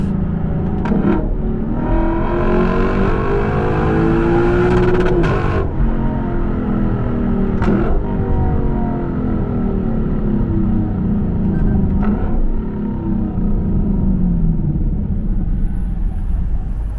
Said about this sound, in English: it is very weird hearing that exhaust note come out of this car